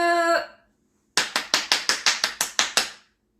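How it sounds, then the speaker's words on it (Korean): Rhythmic group clapping at a Korean church's Sunday worship for young children: about ten sharp, evenly spaced claps in a quick steady beat, loud and close. A short voiced tone comes first, then a pause. "박수!"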